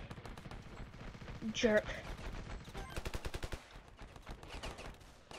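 A burst of rapid gunfire follows a shouted command to fire, crackling shots in quick succession with people's voices and exclamations mixed in, in a World War I setting.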